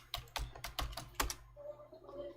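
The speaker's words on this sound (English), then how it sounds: "So for that I'll type iw config." Several quick keystrokes on a computer keyboard as a terminal command is entered in Kali Linux, close and fairly loud, followed by a faint trailing hum.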